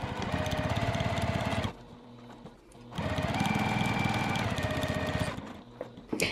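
A sewing machine stitches binding onto a roll-up pencil case in two loud, rapid runs of needle strokes, separated by a short pause during the backstitch.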